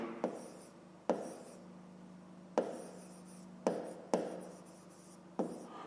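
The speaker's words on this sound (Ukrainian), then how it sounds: "Давайте так і запишемо. Пишемо" A pen writes on paper in quiet, close strokes, with sharp taps as each new word or digit begins, spaced irregularly across several seconds.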